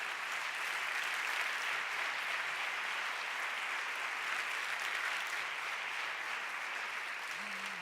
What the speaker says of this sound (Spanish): El aplauso para ellas.